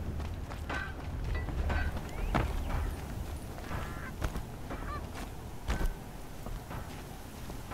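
Wild turkeys near a settlement in the video game Horizon Zero Dawn gobble and honk in short, scattered bursts over a soft ambient background.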